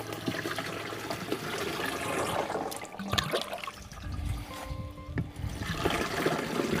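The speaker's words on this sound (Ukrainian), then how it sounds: "треба залити яку літрюху води" Water is poured into the tank of a battery-powered garden sprayer, making a continuous close splashing, gurgling fill that trickles and changes pitch as the level rises, with a few clunks of handling.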